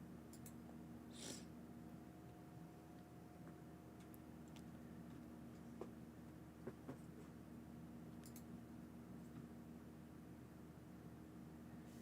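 A pet cat purring steadily and quietly through a long stretch, a low continuous rumble under faint room noise and a few small clicks, with no talking.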